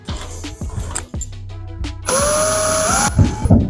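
Power drill driving screws while a garage door opener is installed, with several short whirring bursts followed by a longer high-pitched drill run and clattering at the end.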